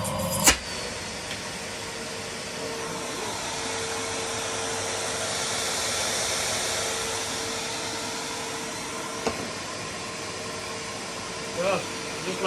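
Numatic Henry Allergy vacuum cleaner with a single-speed 620 watt motor running steadily after being serviced, a continuous broadband whoosh with a faint whine, close and fairly loud, with a few brief knocks.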